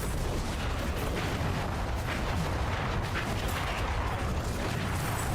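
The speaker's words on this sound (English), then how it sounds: "The explosions." Continuous dense booming and crackling explosions from fire-build combat in the video game Diablo 4, a loud unbroken wall of rumbling blasts and bursts with no talk over it.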